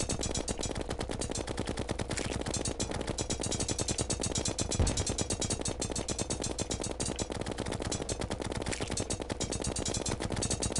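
Rapid automatic gunfire shooting at mobs in the Terraria video game, a dense, continuous stream of evenly spaced shots, loud and steady for the whole stretch.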